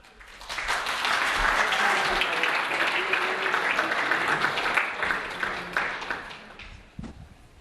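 An audience at a contactless technology awards event in London applauds a guest's entrance: dense, sustained clapping that swells quickly, holds for several seconds, then thins out toward the end.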